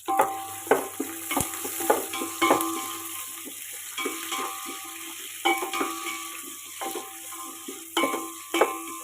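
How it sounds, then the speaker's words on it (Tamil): Chopped onion and green chillies frying in a pan, with a steady low sizzle broken by repeated clinks and scrapes of a spoon stirring against the metal, close and moderately loud. "ஒரு வெங்காயம் கட் பண்ணி வச்சுருக்கேன், இதை சேர்த்திக்கிடலாம். பொன்னிறமாக வேகட்டும்."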